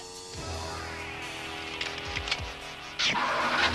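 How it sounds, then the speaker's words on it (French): An Aston Martin sports car engine, heard in an animated series, hums with a steady broadband roar and rises to a louder surge near the end. "on dirait le moteur de l'Aston Martin."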